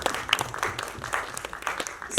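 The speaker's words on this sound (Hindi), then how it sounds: "तो एक बार प्लीज तालियां." Applause from an audience at a film teaser and book launch event, a steady wash of clapping lasting the whole moment with no clear voices over it.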